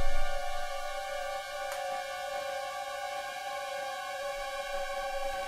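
Shepard tone from a modular synthesizer with added reverb, a steady stack of sustained tonal layers holding at an even level throughout, with no talking.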